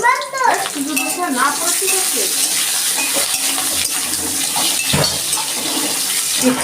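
Potatoes fry in hot mustard oil in a wok, producing a loud, dense, continuous sizzle with occasional stirring scrapes and clatter throughout.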